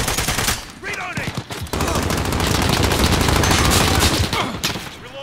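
Rapid gunfire in the video game Modern Warfare, with dense bursts of automatic shots and loud crackling reports filling the whole stretch, close and sustained.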